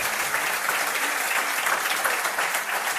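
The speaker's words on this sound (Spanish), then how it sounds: "Pido un aplauso para él." A studio audience breaks into steady, dense applause, even and sustained throughout, many hands clapping at once with no voices standing out.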